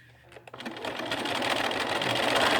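A sewing machine stitches fabric with a backstitch, starting from quiet and quickly building into a loud, fast, steady mechanical whirring rhythm that holds close up to the end, with no talking.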